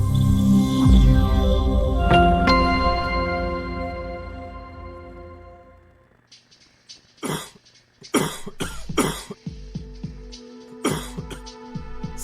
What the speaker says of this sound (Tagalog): ang tagal na ng ubo mo ah